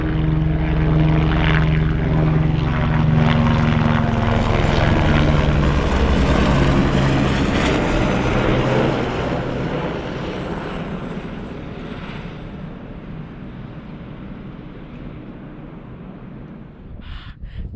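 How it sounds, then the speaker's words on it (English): A helicopter taking off from Namche helipad in the Everest region, heard from above, its engine and rotor roaring steadily, loud at first, then fading gradually as it moves away. "Usually we used to see choppers above us, but I'm seeing the chopper below us."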